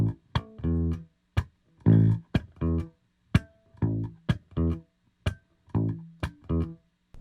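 A bass guitar plays a repeating dotted quarter-eighth groove of short punchy notes, long-short figures recurring steadily, close and clear with no voices.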